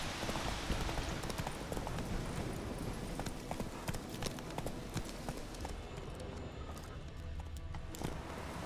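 Horse hooves in The Witcher 3 video game, a rapid clip-clop gallop with steady rhythmic beats over a faint background hum, easing off toward the end.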